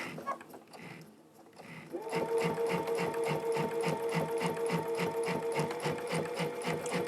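Sewing machine with a walking foot quilting on white fabric, starting after a short quiet stretch of faint handling and then running in a steady, rhythmic, close-up chatter of stitches until the end.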